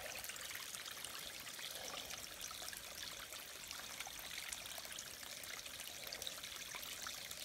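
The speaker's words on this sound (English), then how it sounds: "Beautiful flowing little stream." A small stream beside the Appalachian Trail flows with a faint, steady trickling babble, continuous and unbroken, with no voices.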